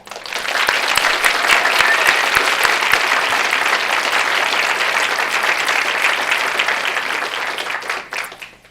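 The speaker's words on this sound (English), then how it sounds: "Please join me in a round of applause for all of our incredible students in the class of 2024." Loud, sustained applause from a large crowd at a medical school awards ceremony, dense clapping holding steady for several seconds before tapering off at the end.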